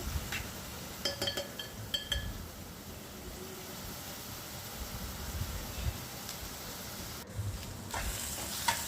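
Onions frying in a pan for mutton keema, giving a steady broadband sizzle throughout, with a few faint metallic clinks from a utensil near the start and a brief scrape later on.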